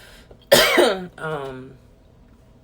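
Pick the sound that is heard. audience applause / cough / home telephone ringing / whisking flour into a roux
cough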